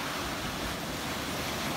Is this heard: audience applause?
no